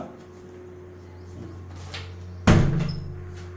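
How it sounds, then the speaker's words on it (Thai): Bathroom door in a small budget guesthouse room swinging shut, a faint creak building before one sharp, close knock as it closes, with a brief rattle after it. "ถ้าปิดประตูก็"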